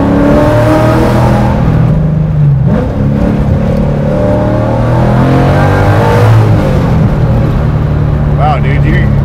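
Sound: 1965 Ford Mustang fastback Boss 302 engine revving

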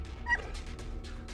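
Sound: dog barking and whimpering in a video game

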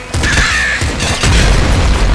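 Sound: explosion in a video game

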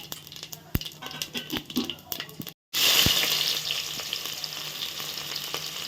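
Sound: ghee added to hot oil, frying

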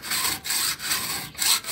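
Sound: hand sawing through laminated metal plane iron

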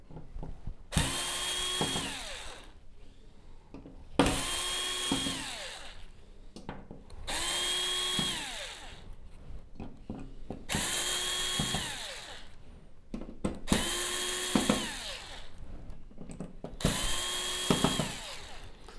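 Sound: drill with fine tip crosshead screwdriver bit removing tiny screws

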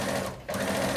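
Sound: sewing machine running

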